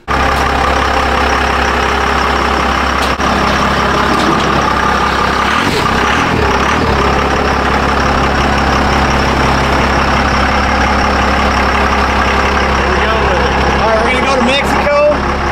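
A compound-turbo Cummins truck engine runs at a steady, loud low rumble throughout, with people talking nearby over it.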